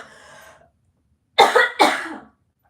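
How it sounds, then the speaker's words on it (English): A person ill with covid has a coughing fit: a faint wheezy breath, then two sharp, harsh coughs in quick succession, close and loud. "these coughing fits are getting so bad"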